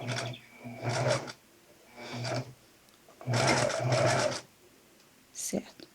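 A double-needle sewing machine stitches bikini elastic in four short whirring bursts separated by pauses, close and fairly quiet, with a brief clack near the end.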